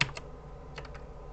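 Keys clack on a Mega65 computer keyboard: a few quick, close taps in a short burst, one near the start and a small cluster later, with no speech.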